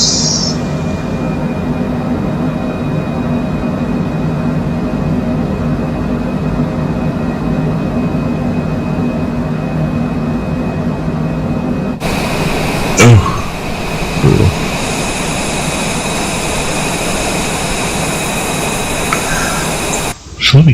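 Steady, loud aircraft engine drone in a flight simulator, holding a constant hum before shifting to a fuller, brighter roar partway through as the throttle comes up, with a couple of brief clunks during the change.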